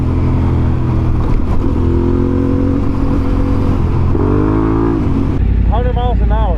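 An adventure motorcycle engine drones and climbs in pitch as the rider accelerates hard toward 100 mph, with wind rumble throughout and someone talking over it.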